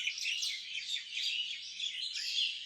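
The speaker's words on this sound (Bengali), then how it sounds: "যদিও সুন্দর পাখির ডাকি," Mynas and sparrows chirp and call continuously from trees near a quiet gated compound with a swimming pool, a dense, overlapping chorus of bright tweets at moderate distance with no voices.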